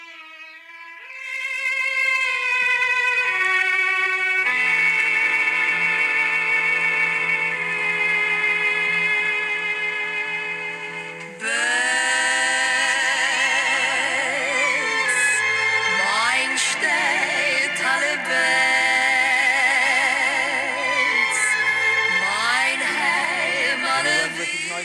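Recorded Jewish music, a steady sustained piece with voices and instruments throughout, playing loud and continuous, with a denser, busier passage starting partway through.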